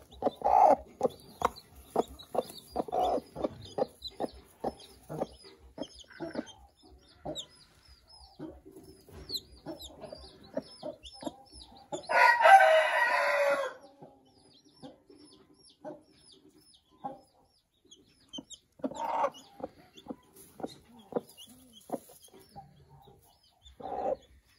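A Sura breed hen clucks softly in repeated short calls near three chicks, with a brief louder burst of flapping or squawking midway and intermittent chick peeps, close and otherwise quiet.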